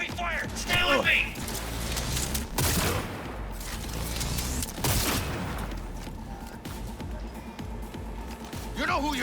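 Gunfire from the video game Cyberpunk 2077 comes in loud, dense bursts of sharp cracks over a constant mix of game sound and music, with someone talking at the start and end.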